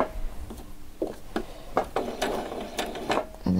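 A sewing machine makes a few short forward stitches while a frilled top is sewn, heard as a handful of close mechanical clicks and ratcheting taps in quick irregular bursts, with a louder clatter at the end.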